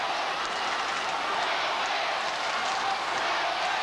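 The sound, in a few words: football crowd cheering after a goal at the SCG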